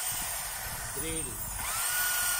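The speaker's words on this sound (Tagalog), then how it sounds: "Drill." A repaired hammer drill with a replaced bearing housing and switch runs briefly in a continuous whirring burst, close and moderately loud, with talk around it.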